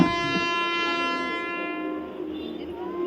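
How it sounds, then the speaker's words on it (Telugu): An arriving train's horn blares steadily with rich harmonic tones, loud and close, beside tracks where people wait, fading slightly toward the end amid rumbling rail noise. "ఇక్కడ వచ్చేస్తుంది ట్రైన్"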